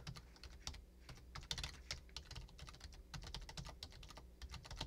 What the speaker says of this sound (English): It's like me typing the link.